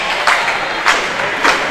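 Crowd at a women's college volleyball match between Tabor College and Oklahoma Wesleyan cheers in a steady noisy wash, with a few brief louder swells and claps rising roughly every half second.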